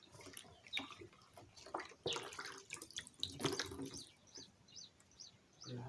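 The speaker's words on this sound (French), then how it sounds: "Je prends une cuvette, une bassine d'eau, comme vous voyez." Water sloshing and splashing in a basin as a washcloth is dipped and wrung for washing the face, irregular close splashes and trickles at low volume, with faint bird chirps in the background.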